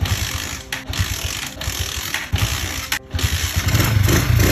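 An old motorcycle engine that at first would not start now runs with a close, loud, rough rattling idle. Ratchet-like mechanical clatter sounds throughout, and the pitch rises slightly toward the end.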